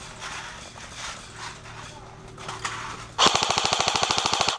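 Rapid automatic gunfire bursts out in a shooting video game, a fast evenly spaced string of loud shots after a few seconds of quieter background sound.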